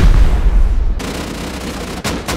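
Rockets blasting a stone wall in the game Rust, a loud continuous burst of explosive rumble that cuts off sharply, followed by two more short blasts near the end.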